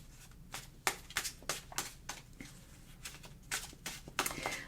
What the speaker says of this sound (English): I had a comment from the weekend that the card shuffle was really loud.